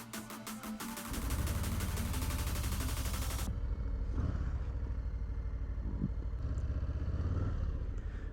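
A 2022 Harley-Davidson Low Rider S cranks over and its engine catches after about a second, then settles into a loud, steady, lumpy rumble that continues to the end with no talking.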